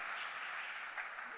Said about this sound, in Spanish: Démosle un fuerte aplauso al Señor en esta noche.